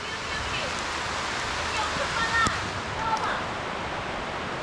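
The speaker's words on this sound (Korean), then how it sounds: "비 많이 온다, 많이 온다." Heavy rain pours down steadily as a dense, continuous hiss of broadband noise with no break, while a few faint knocks and rattles rise briefly through it.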